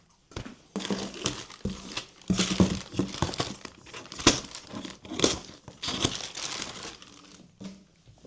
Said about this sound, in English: It shows that I should drag all the paper here.